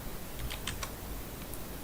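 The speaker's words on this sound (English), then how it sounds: "and I will be typing in my password." Keys tapped on a computer keyboard while entering a password, a few quick clicks clustered together, fairly faint against a steady background hiss, with no voices.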